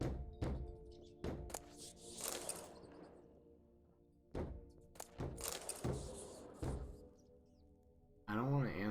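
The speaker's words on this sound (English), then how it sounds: "There's someone banging on the door." Someone banging on a wooden door in Witcher 3, heavy irregular thuds in clusters with pauses between, loud and close, with a voice speaking over parts of it.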